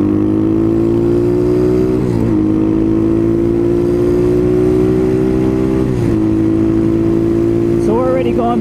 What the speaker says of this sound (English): I'm just gonna rev it.